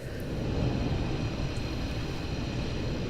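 Inside Microsoft Flight Simulator, a Fenix Airbus A320 with IAE engines gives off a steady, fairly loud jet engine roar with a broad rumbling hum that holds constant throughout, with no voices.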